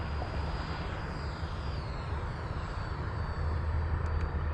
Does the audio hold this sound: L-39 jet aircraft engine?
yes